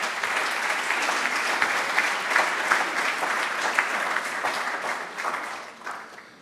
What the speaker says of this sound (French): Et j'aimerais qu'on les applaudisse.